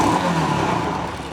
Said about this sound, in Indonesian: Nah, ini motor kita gas ya.